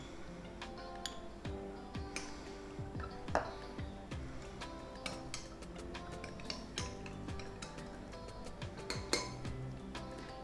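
A metal teaspoon clinks and taps repeatedly against a cup of spiced pumpkin latte with maple syrup, producing light, irregular chimes at a quiet level with no talking.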